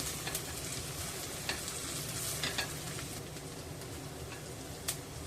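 Onion softening in a pan for a dried Bombay duck curry sizzles in a continuous close hiss, broken by a few sharp clicks and scrapes of stirring, with no voices.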